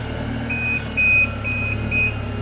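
A Hyundai forklift truck in a warehouse sounds its reversing alarm as four evenly spaced, steady electronic beeps over a constant engine hum, loud and close.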